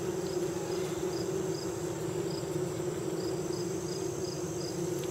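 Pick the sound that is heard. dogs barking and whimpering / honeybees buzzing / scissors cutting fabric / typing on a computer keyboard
honeybees buzzing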